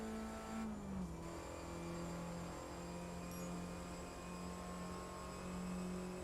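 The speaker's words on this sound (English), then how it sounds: "little bit of transmission whine in the interior view" Steady car engine drone with a faint high transmission whine, heard from the interior view while driving a car in Test Drive Unlimited 2, holding at an even pitch with slight rises and no speech.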